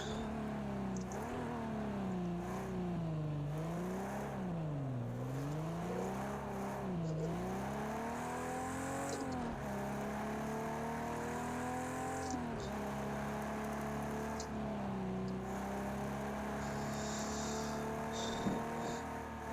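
Race car engine in the Project Cars 2 video game, a car with a four-speed gearbox and very widely spaced gears, droning steadily with long rising pulls and dips between shifts, fairly faint throughout with no talk.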